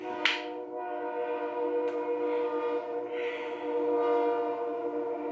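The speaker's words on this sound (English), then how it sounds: "train's coming through, so if you could hear that in the background" A train passes nearby with a sustained, droning horn blast of layered tones, accompanied by a couple of sharp clicks and a steady rumble.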